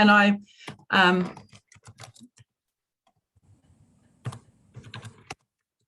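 Keys on a computer keyboard clatter in short, light bursts as text is written into a word-processing document for a club newsletter, with a person talking at the start before the quieter tapping continues.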